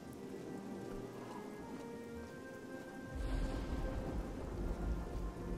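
Steady rain with a deep rumble of thunder building in the second half, heard in the fantasy role-playing game Oblivion, continuous and fairly loud with no talking.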